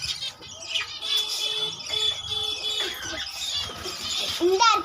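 Lovebirds and finches in a nest box chirp and squeal continuously, with dense overlapping high tweets close by, and a voice speaking beneath them.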